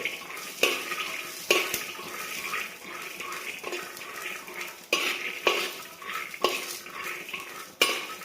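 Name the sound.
peanuts being stir-fried in a wok until crispy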